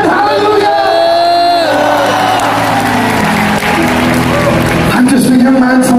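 A large church congregation at a Christian gathering shouts and cheers loudly together, raising hallelujah-style cries over a continuous roar, with a voice carrying over the crowd.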